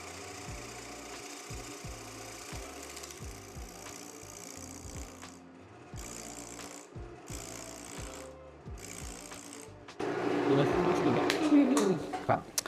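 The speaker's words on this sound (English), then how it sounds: "start your lathe off slow. You can always turn the speed up." A woodturning lathe spins a segmented bowl held in a chuck, starting slowly with a rhythmic knocking hum, then louder with harsh cutting noise near the end while a person talks over it.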